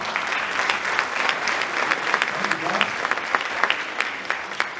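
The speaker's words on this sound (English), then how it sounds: "I'd like to round of applause for our members of the Triumph." A school auditorium audience at a high school winter concert applauds the Triumph group members, with steady dense clapping throughout and a few louder individual claps popping out near the end.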